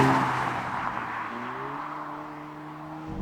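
A Volvo V60 Polestar's engine and exhaust drone from inside the moving car. The steady tone shifts in pitch under load, with no voices.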